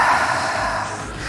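A single breathing-out during a Tabata workout cool-down: one steady, breathy rush of air lasting just over a second, close and fairly loud, with no talking over it.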